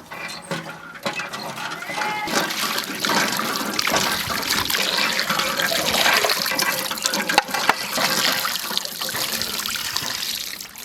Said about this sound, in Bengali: কলটা টিপে দিত, টিপে দাও। হ্যাঁ টিপে দিচ্ছি।